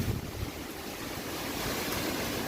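Strong storm wind roars in a steady, fairly faint rush, buffeting the microphone with low rumbling gusts and no voices.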